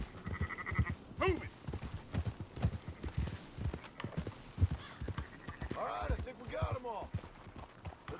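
Sheep in Red Dead Redemption bleat in several wavering calls near the end, mixed with close clip-clopping horse hooves; people talk over parts of it.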